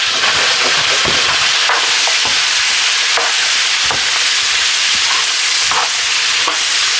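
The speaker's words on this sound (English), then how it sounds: "And some carrots. Now I don't want to cool this pan down, so I'm only going in with just a little for now." Carrots frying in a hot pan on an electric stove, a loud, steady sizzle close by with intermittent stirring scrapes and taps and no voices.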